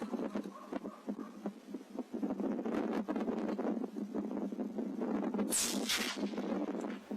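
Outdoor wind gusts steadily buffet the microphone during a night fox hunt with a rifle on a field, a constant low rumbling roar over several seconds with rustling texture, rising slightly near the end.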